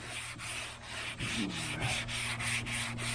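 Sandpaper rubs back and forth over the primed hood of a 1977 Chevrolet Malibu Classic during final bodywork, a close rhythmic scratching with regular strokes and a low steady hum underneath.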